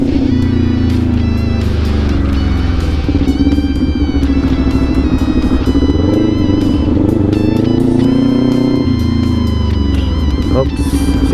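Kawasaki Ninja 400 sports bike engine braking on a test ride, a loud, steady engine drone with falling and rising pitch sweeps as revs drop through gear changes, continuous throughout.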